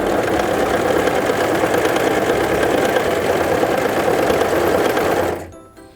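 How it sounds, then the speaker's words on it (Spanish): A Brother CV3550 coverstitch machine sews fabric in one loud, steady, fast mechanical run that holds for several seconds, then stops abruptly and leaves near silence. "Luego presiona el pedal para comenzar a coser."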